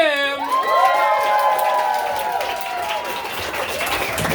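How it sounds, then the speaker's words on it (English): Applause and cheering from a comedy-club audience welcoming comedian Alex Kim to the stage, a steady dense wash of clapping with whoops rising over it, loud and close throughout. "Start clapping right now for Alex Kim."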